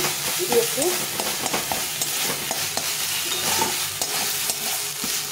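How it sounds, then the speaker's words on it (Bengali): Mashed bottle gourd leaves fry in oil while being stirred, a loud, steady sizzle with continuous scraping and rustling of the spoon close by, no voices. "এভাবে ভালো করে নেড়ে করে ভর্তাটাকে বানিয়ে নিতে হবে। কত তেল ছেড়ে দিয়েছে।"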